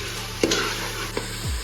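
Tomatoes sautéing in a pan for pressure cooker mutton biryani give a steady low sizzle, broken by a few short scrapes and clinks as they are stirred.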